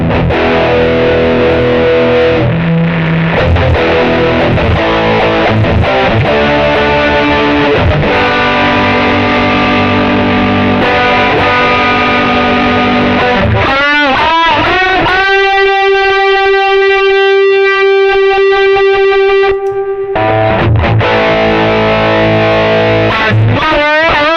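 Electric guitar through a Tech 21 OMG Richie Kotzen boost pedal, with a boosted, gritty tone, strummed chords and sustained ringing notes, loud and continuous with no talking.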